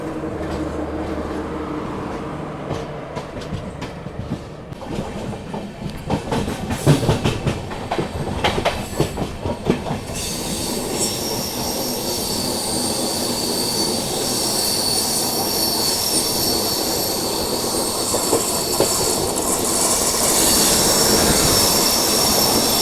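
The 17645 Secunderabad Repalle Express, a packed passenger train with a generator car, runs past close by, with wheel squeal and rattling clatter that grow into a loud, sustained roar of rolling coaches.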